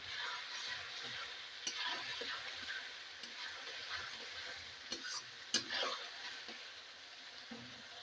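Goat liver frying in oil in a pan, a soft continuous sizzle with scattered clinks and scrapes of stirring, fairly quiet and close, with no talk.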